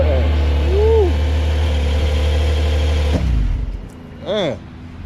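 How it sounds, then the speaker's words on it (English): A Porsche 911 Carrera 4S idling with a steady, deep engine drone under a whirring hum, which cuts off partway through, followed by a short, faint rising sound. "Now listen to the 911 Carrera 4S"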